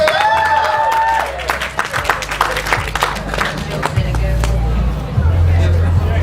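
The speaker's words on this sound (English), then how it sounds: "Let's give a big round of applause, please, for Kate, Andrea, Boo!" An audience at the BettaKultcha presentation event at The Magic Loungeabout, 2012, claps in a dense patter of applause that rises and then thins out, with voices and murmur mixed in.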